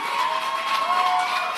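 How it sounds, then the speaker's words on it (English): Steady applause and crowd noise from an audience at the TELexOwutu 2023 community event, a continuous wash of clapping with a sustained tone running through it. "Please give him a round of applause."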